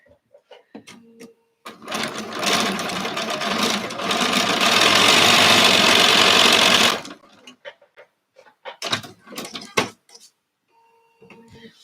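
Sewing machine stitching quilt pieces, a dense steady mechanical whir lasting about five seconds, close and loud, framed by clicks and handling noises of fabric before and after.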